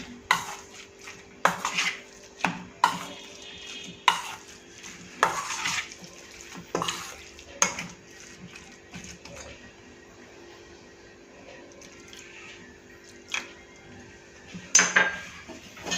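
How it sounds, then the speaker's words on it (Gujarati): Semolina handvo batter is mixed with water in a bowl, giving repeated sharp clinks and scrapes of a spoon against the dish at irregular intervals, close and fairly quiet, with no talk. "પહેલાં થોડું પાણી એડ કરી અને બરાબર મિક્સ કરીશું"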